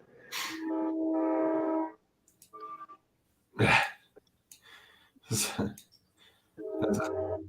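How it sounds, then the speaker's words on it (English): A train horn sounds in a couple of long, steady blasts, interrupted by short, abrupt vocal noises nearby. "I heard the train."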